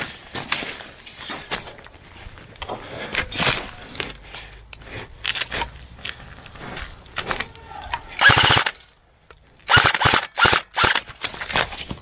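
Airsoft guns fire in rapid bursts and single cracks during an indoor airsoft training game, close and loud, with bursts clustered in quick succession and scraping, clattering noises between them.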